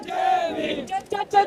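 A large protest crowd at Jantar Mantar shouts and chants in raised, overlapping voices, surging in short bursts toward the end.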